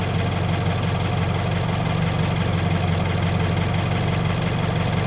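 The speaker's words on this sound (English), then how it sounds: "The heater is running, the fans are blasting, and we see coolant." A Toyota engine idles steadily and loudly with the heater fans blasting, a constant close-up drone with no talk.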